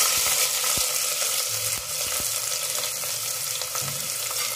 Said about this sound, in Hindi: तेल जब गर्म हो जाए तब हम इसमें दो प्याज डाल देंगे।